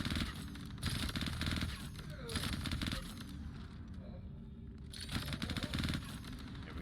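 Machine gunfire mows down enemies in the video game Star Citizen, with repeated rapid bursts of automatic fire at a steady rhythm over a low rumbling background.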